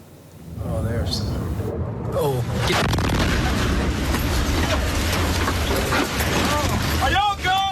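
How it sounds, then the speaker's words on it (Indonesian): A deep, rumbling Iranian ballistic missile blast roars continuously and loudly near American troops at a US base, with chaotic crackling, distant shouts and whistling tones over the sustained noise. "ledakan keras rudal balistik Iran sangat dekat dengan tentara Amerika"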